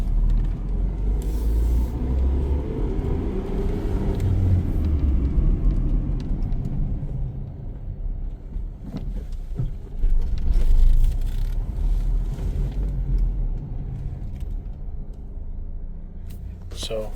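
Steady low rumble of a 2000 Honda Civic Si driving, heard from inside the cabin, with road and engine noise swelling slightly midway; a voice talks briefly over it.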